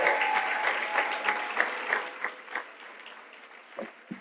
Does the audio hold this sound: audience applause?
yes